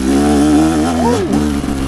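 A Fantic XE 300 motorcycle engine revs steadily while riding, its harmonic drone rising and then dipping in pitch midway, loud and close throughout the two seconds with no talking.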